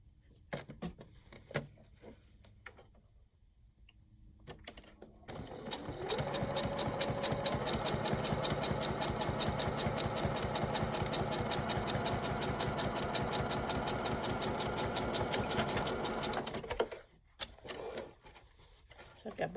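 A sewing machine stitches the side seam of a steampunk snap-on bag, running in a steady, rapid mechanical chatter for about ten seconds before stopping, with a few handling clicks before and after and some talk over it.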